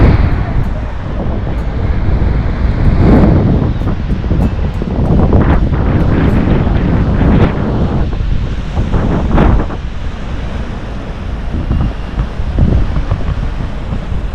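Wind buffets the microphone over rolling surf at a beach in Porto, with loud gusts and breaking waves swelling and fading continuously.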